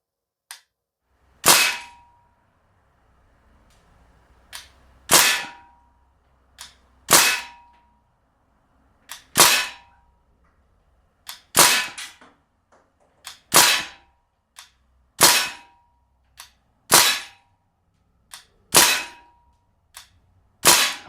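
Crosman A4-P CO2 blowback BB machine gun firing about ten sharp, snapping shots outdoors, spaced roughly one to two seconds apart, each crack loud and close with a brief ringing tail and quiet gaps between.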